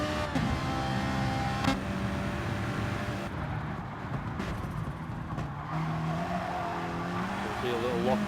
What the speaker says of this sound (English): See a little lock up from the back left on Viali's Ferrari there as he headed into the corner on the brakes